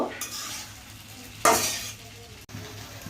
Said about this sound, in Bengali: তো আমি সবকিছু ভালো করে মিশিয়ে নেব।